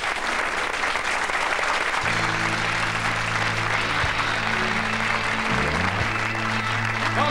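A TV studio audience applauds loudly and continuously for a singer, while low sustained musical tones from a band intro begin partway through and carry on under the clapping.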